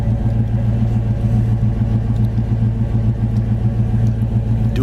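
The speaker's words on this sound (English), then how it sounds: "Dual exhaust sounds great." A 1939 Chevy street rod with dual exhausts idles steadily, a deep, even low rumble running without a break at close range, with no voices over it.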